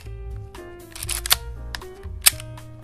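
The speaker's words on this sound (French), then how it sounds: "Il suffit d'appuyer sur le déclencheur." A Konica Pop compact film camera fires two sharp shutter clicks about a second apart, close and crisp, with soft winding and handling sounds between them.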